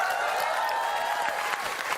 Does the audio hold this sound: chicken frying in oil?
no